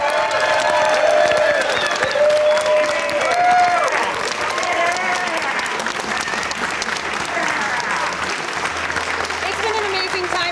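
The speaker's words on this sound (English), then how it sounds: "Please give yourselves a round of applause." Sustained applause from a large audience fills the whole stretch, dense and loud, with some cheering and music layered underneath.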